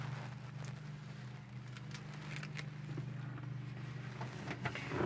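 A fast 1955 Chevy cruises along with a steady low engine hum and road rumble, a few light clicks and rattles scattered over the top, with no talking.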